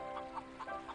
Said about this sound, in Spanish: Además tenía una gallina